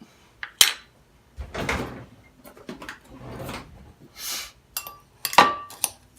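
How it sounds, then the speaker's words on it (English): A knife chopping food on a board for a keto breakfast topping with eggs: a few scattered sharp knocks and clinks with pauses between them, close and moderately loud, with light handling sounds. "We're just going to chop these up a bit."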